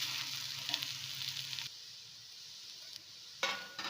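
Adai, a thick lentil-and-rice breakfast dosa, sizzles steadily on a hot iron griddle after being flipped, a close bright hiss that drops lower midway and then swells again near the end.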